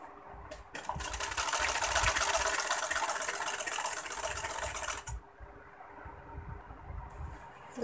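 A sewing machine stitching a fall onto the hem of a sari runs in one continuous, close, whirring burst for a few seconds, then stops, leaving faint background noise.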